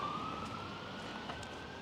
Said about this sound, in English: I don't think the ambulance is going to be coming our way, or the fire truck, or the police car, depending on what that siren is.